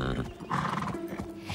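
A pony carrying a rider whinnies and snorts up close, a strong, continuous animal voice with breathy, tonal stretches.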